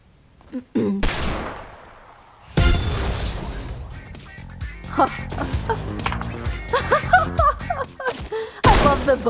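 A minigun in Fortnite opens up after a quiet start, loud sustained rapid-fire bursts rattling on and off for several seconds, close and harsh, with brief pauses between volleys.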